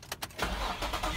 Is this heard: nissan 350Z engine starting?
yes